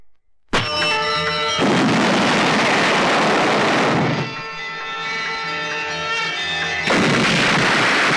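A hand grenade blowing up a godown in a Hindi film action scene, a sudden massive boom followed by a long roaring, rumbling blast, with a second surge of explosion near the end.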